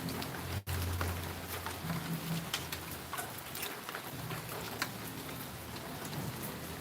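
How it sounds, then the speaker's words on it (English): Steady rain falls across Kingston, Jamaica, a dense even hiss of drops on surfaces with scattered louder splashes, continuous and fairly close throughout, with no voices. "As you can see it at this present moment. It's raining."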